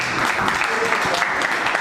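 Audience clapping at an annual chariot procession (Rath Yatra) religious gathering, a steady dense wash of applause with some voices mixed in.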